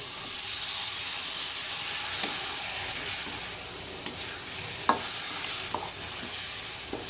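Frogs stir-fried northern Thai style with curry paste and fermented pork keep up a continuous hissing sizzle, broken by several sharp scrapes and taps of a spatula against the pan.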